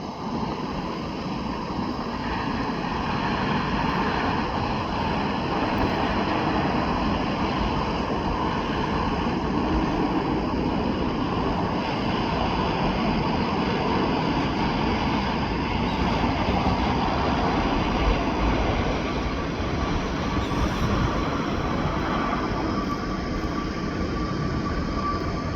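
Large jet airliners at Incheon Airport produce a continuous, heavy engine roar that stays steady and fairly loud for the whole stretch, with no voices over it.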